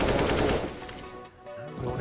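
Rapid automatic gunfire in a Counter-Strike match, a loud close burst of shots over the first half second, then fainter scattered game sounds.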